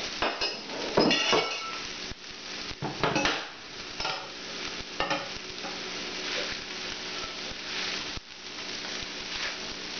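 Japanese vegetarian fried rice is scraped and stirred from a pan onto a plate, with steady metallic clinks and scraping against a soft sizzle, close and continuous with no talk.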